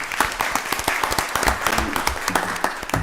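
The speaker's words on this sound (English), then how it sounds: "Give them another round of applause." Applause rises from the room at a county board of commissioners meeting, a steady crowd clapping with some sharp individual claps standing out near the listener, continuing evenly for about three seconds.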